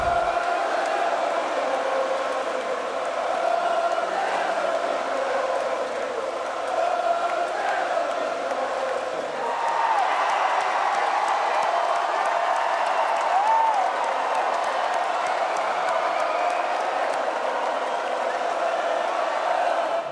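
A large festival crowd at the Glastonbury Pyramid stage cheers, claps and whoops in a continuous distant roar. Music is mixed in, and a voice speaks over parts of it.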